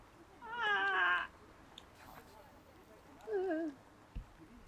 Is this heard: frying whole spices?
no